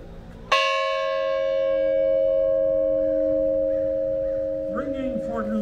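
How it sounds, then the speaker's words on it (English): A single bell struck once at an Independence Day bell-ringing ceremony by Rotarians, one strike for each of the original thirteen states, ringing out loud and sustaining a long, slowly fading tone, with faint voices near the end. "Our Rotarians will now ring the bell 13 times, once for each of the original states."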